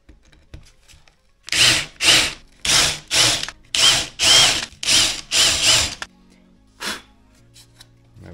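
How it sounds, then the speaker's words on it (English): Power drill countersinking screw holes in a router table base plate: about eight short, loud whirring bursts in quick succession, then a quieter final burst after a pause. "Let's get a nice countersink on these holes."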